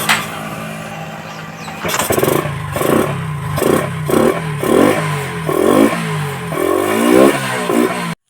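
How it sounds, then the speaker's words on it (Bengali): A motorcycle engine starts and runs close by, revving up and down in repeated bursts before cutting off abruptly. "এখানে আমরা বাইকটা পুরো রানিং করে ফেলেছি"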